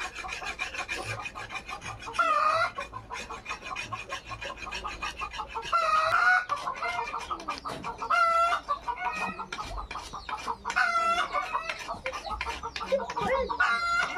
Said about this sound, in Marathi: आता ऐकलं असेल तुम्ही कोंबड्यांचा आवाज. प्रचंड सकाळच्या ओरडतात.